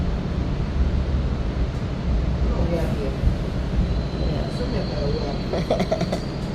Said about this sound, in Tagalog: Nasa loob na kami ng tren